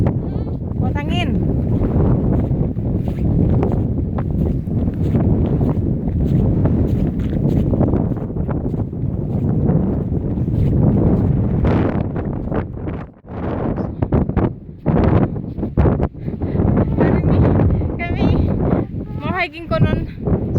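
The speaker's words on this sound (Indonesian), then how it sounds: "angin sangat kencang" Strong wind roars and buffets the microphone on a mountain hike in the Pyrenees near Gavarnie, a dense continuous rumble that dips briefly midway, with faint voices now and then.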